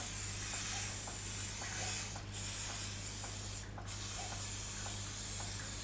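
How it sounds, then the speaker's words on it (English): Two short bursts of aerosol oil spray hiss onto chickpea and sweet potato rissoles, over a steady low hum and soft background noise, each lasting a fraction of a second. "I'm going to spray them with the oil on top now"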